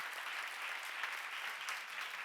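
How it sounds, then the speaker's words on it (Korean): A church congregation claps together in a steady, even burst of applause that fills the sanctuary, with no voices over it. "박수하세요."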